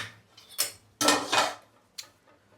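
A metal spoon is picked up and handled while lemon honey is made at home. A few sharp, close clinks and scrapes come in short separate bursts, with no talking.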